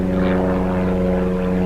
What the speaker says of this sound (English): Got a nice plane coming over.